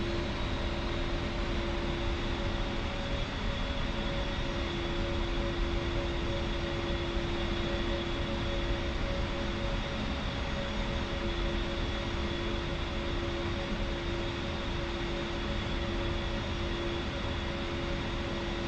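A jet aircraft engine in a flight simulator game roars as a continuous steady whine with tonal hums over broad rushing noise, unchanging and loud throughout with no voices.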